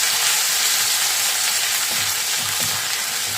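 Onion frying in oil with garlic and ginger for a singara filling, a loud continuous close sizzle that holds steady throughout with no talking.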